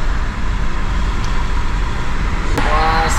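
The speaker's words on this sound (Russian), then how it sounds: "Машина ревет прям, да, 3000 оборотов, 90 километров в час." A car engine roars steadily at about 3000 rpm while climbing a mountain road near Mersin, Turkey at 90 km/h, a dense low drone with road rumble heard from inside, and a brief horn-like tone near the end.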